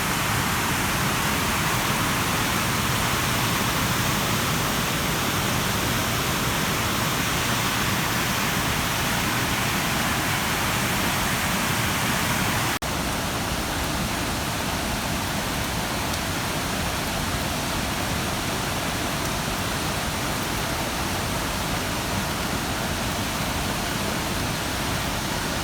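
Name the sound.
Shifen waterfall in Taiwan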